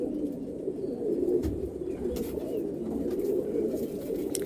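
Golden-eye pigeons coo steadily in a low, continuous murmur from a flock kept close by, with faint soft chirps scattered over the top.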